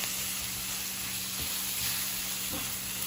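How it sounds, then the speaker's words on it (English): Sauce simmers in a pan for a vegan Daniel Fast dinner, giving a steady soft sizzle and hiss throughout, close up, with faint spoon scrapes or stirring knocks near the middle and end. "So I'm just going to let this simmer like this for another 30 seconds"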